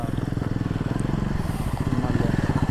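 A newly launched motorcycle, a Himalayan 450, passes on an off-road trail with a steady, thumping engine pulse that stays close and loud throughout the few seconds.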